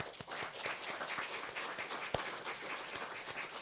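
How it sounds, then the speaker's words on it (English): An audience at a talk on art collecting claps in a fairly soft, somewhat distant wash of applause, with a few sharper individual claps standing out from the steady patter. "let's give him a round of applause"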